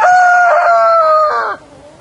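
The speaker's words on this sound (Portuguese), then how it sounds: "o galo já canta no quintal" A rooster crows in a rural farmyard in São Miguel Arcanjo, São Paulo, on a cold morning. One long, loud, close cock-a-doodle-doo holds steady, then breaks off and fades near the end.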